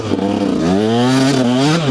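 Close, loud revving of a 125 SX enduro motorcycle engine, pitch climbing smoothly and then easing off in a single strained pull over muddy enduro ground, with no voices.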